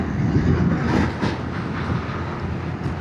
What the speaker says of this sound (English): This is a regular cargo train